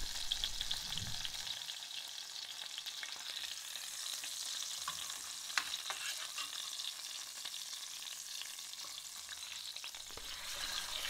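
Duck breast sears in a pan on its meat side, giving a steady, close sizzle and crackle that runs unbroken for several seconds with no voices over it.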